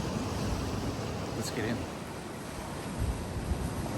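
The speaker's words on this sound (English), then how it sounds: "The ocean water's coming in to cool it off on our behalf." Ocean waves wash at a seaside wild hot spring in Hokkaido, a broad steady surf rush mixed with wind buffeting the microphone, and a person speaks briefly over it.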